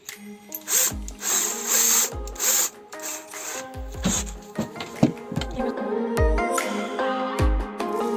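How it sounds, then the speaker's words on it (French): A power drill bores into a small square of wood in repeated short bursts, the motor whirring up and stopping with clicks and handling noises between, close and fairly loud. "Maintenant il n'y a plus qu'à le percer."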